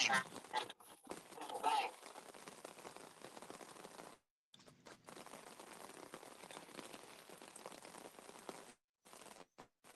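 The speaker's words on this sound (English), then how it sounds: "I can hear the rain falling in the background." Rain falls as a steady, faint hiss of pattering drops, heard over a phone line with brief dropouts and cuts in the signal.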